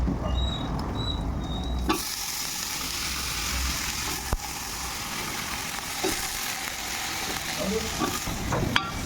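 Onions, garlic and potatoes frying in a pan, a steady close sizzle with stirring scrapes and occasional clinks of a utensil, louder after the first two seconds.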